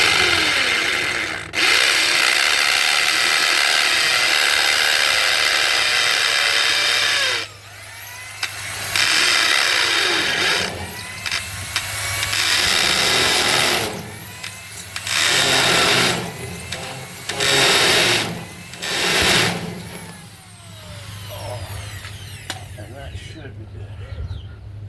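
Loud, sustained mechanical whirring of a hammer drill running in long bursts, stopping and starting several times, with brief pauses between runs.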